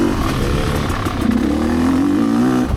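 Loud two-stroke engine of a Rieju MRPro kickstart dirt bike, a close rasping buzz holding a fairly steady pitch with slight throttle wavers and no speech.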